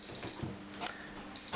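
A Satel SP4004 alarm siren sounds short electronic beeps in a quick burst of three, a pause with a faint click, then another beep starting.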